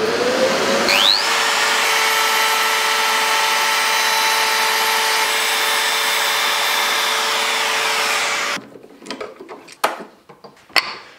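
A power router cuts a 10 mm deep recess in wood, a loud steady high whine that spins up, holds for about eight seconds, then cuts off, followed by a few scattered knocks and handling clatter.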